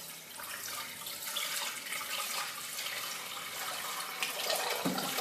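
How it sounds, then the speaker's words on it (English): Water poured steadily from a jug over lentils being rinsed, a continuous splashing trickle that runs close and moderately loud throughout, with no voices. "I'm going to be relying upon a jug to rinse my lentils through"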